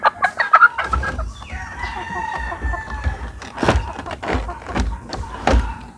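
Caged gamefowl roosters, including Sweater and white Kelso breeds, crow and cluck nearby in a farm pen. One drawn-out crow rises over scattered clucks and sharp knocks of cage doors or wire.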